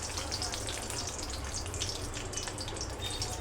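Mustard seeds sizzling in hot oil for tempering, a continuous crackling hiss with scattered small pops, steady and close, no one talking.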